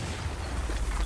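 A detonation in Batman Arkham Knight rumbles as a dense, noisy boom that fills the brief moment without a sharp onset, heavy in the low end.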